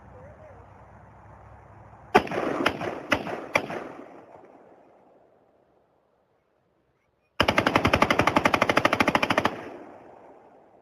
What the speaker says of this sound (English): I'm gonna shoot semi first.